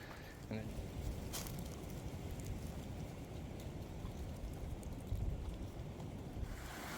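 A small waterfall cascades down rocks at a stream crossing in Kentucky's Red River Gorge, making a steady, dense rushing wash that stays level and fills the whole stretch.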